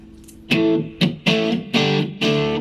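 Distorted electric guitar chords strummed on a Fender Strat with stock neck and middle pickups through a Marshall MG15 amp, five punchy hits with sustained ringing between them, close and loud, no voices.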